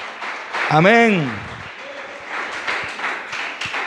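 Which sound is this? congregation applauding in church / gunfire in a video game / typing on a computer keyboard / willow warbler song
congregation applauding in church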